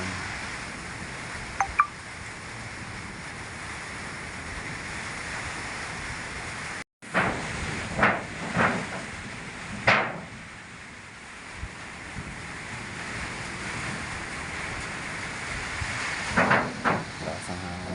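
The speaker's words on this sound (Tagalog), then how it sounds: "Malakas na yung ating hangin." Strong typhoon wind gusting at night in Malolos, Bulacan near fishponds, a steady roaring hiss with louder buffeting gusts and brief knocks, close and rough against the microphone.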